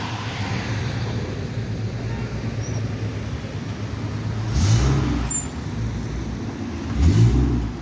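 Backed-up car traffic near a serious accident on Quincy Street in Boston gives a steady idling rumble, with two louder engine revs swelling past up close.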